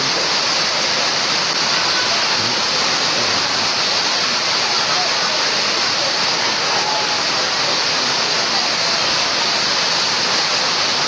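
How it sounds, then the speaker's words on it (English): Heavy rain pours down steadily as a loud, dense, continuous hiss, with faint indistinct voices beneath the downpour. "You will see the rain falling."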